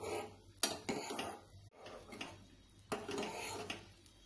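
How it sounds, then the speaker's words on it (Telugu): Homemade hair gel boiling in a pot on the stove while a utensil stirs it, giving faint scraping and a few soft clinks against the metal, quiet and close. "ఇలా మరగనిచ్చేటప్పుడు మనం ఇలా కలుపుకుంటూ ఉండాలండి"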